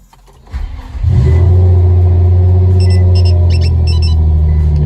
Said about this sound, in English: we're gonna go ahead and start the car and see if it can drive